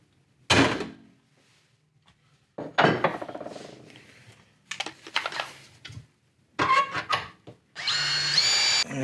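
A stepper bit bores a hole in short bursts, drill whine starting and stopping several times with brief quiet gaps between, close by, and a longer higher-pitched run at the end.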